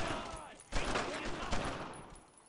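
Sustained gunfire at German soldiers in the World War II video game Brothers in Arms, a dense close rattle of shots with a sharp louder burst partway through.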